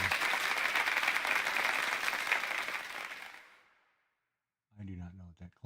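Sustained applause-like clapping fills the first three seconds during a charity livestream, then fades out to silence before a voice speaks.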